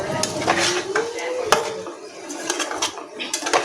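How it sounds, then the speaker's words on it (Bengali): A kadai for frying luchi is set down on a stove, with metallic clanks, scraping and stirring of pots and utensils and a faint sizzle in the background. The clatter comes in short, close bursts. "এখানে কড়া চাপিয়ে দিয়েছি, লুচি ভাজার কড়া।"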